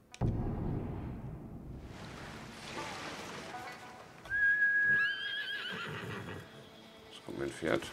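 A horse in the video game Ghost of Tsushima (Director's Cut, Iki Island) gives a loud, close whinny with a rising then falling pitch, amid surf-like ambience and hoof movement; someone talks around it.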